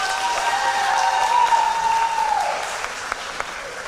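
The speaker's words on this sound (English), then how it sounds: "How about a round of applause for Coach Burns?" Sustained audience applause fills a room at a school winter and spring athletic banquet honoring a coach, steady even clapping with a faint tonal whistle-like sound running through the middle and a slight tapering near the end.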